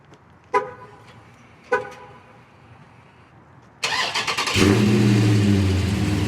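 A Dodge Challenger 392 Scat Pack with its 6.4-liter HEMI V8 is started from outside the car: two short horn or lock chirps, then the starter catches and the engine bursts into a loud, rumbling idle.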